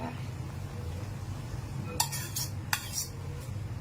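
Dolly fish fillets, frozen and pre-cut, go into a cooking pot, giving two or three sharp metallic clinks and scrapes of utensil against pot over a low steady hum.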